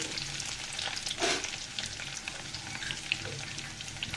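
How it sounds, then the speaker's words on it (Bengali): Onion and garlic fry in a pan, giving a faint, continuous sizzle with occasional crackles and light stirring scrapes, with no voices heard. "দেখুন পেঁয়াজ রসুনগুলো আমার ভাজা হয়ে গিয়েছে"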